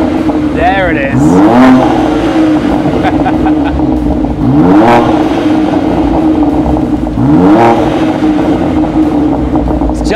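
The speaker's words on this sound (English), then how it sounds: "the sound of the exhaust is in keeping with the upgrades on the car" A BMW M3 Touring exhaust revs loudly three times in rising, roaring bursts, settling into a deep idle burble between each rev.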